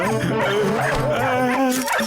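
Cartoon dogs bark and yip loudly in an animated Motu Patlu episode, a dense, continuous run of barks with whimpering over busy background sound.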